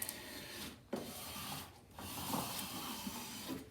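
A ruler is scraped and rubbed hard across the back of a sign, giving a steady dry rasping friction that runs in long strokes with brief pauses between passes, close and fairly quiet.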